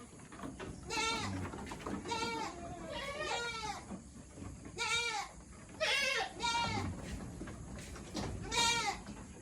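Several farm goats bleat repeatedly and overlapping, wavering calls close by over a low background rumble.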